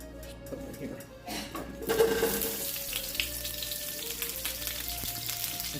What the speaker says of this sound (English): And just let those fry up until they get a nice golden brown.